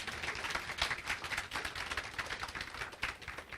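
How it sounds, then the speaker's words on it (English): Dense, even crackle of an audience applauding at a Medicaid expansion event, faint and distant throughout with no voices on top. "Let's hear a big round of applause for that."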